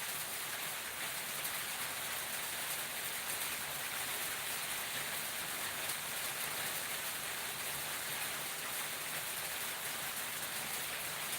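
Rain falling steadily in a village setting, an even, continuous hiss of drops on surfaces heard from a moderate distance, soft and unchanging throughout with no voices.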